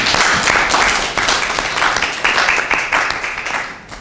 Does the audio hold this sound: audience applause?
yes